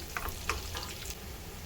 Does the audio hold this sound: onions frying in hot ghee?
yes